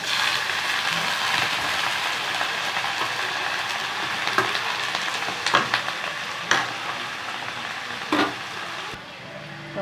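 Steady sizzling of chicken frying in a pan, continuous and fairly loud, with a few stirring clatters near the end.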